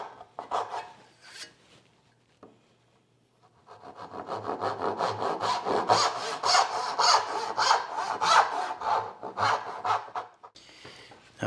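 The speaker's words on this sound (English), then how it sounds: "next move is to put this in place and saw out these tails." A hand saw cuts houndstooth dovetail tails in a board held upright, giving a long run of quick, close, rasping back-and-forth strokes after a few short starting strokes and a brief pause.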